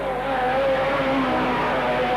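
Mini sprint cars race around a dirt oval at a standard saloons meeting in Wangaratta, with loud, steady high-pitched engine drone from several cars held at full throttle and no pause throughout.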